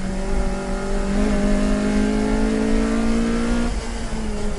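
Honda CRX with a B16B engine swap driven hard through a fast corner on a mountain touge road, its engine holding a loud, high steady whine that climbs slightly then eases, heard from inside the car.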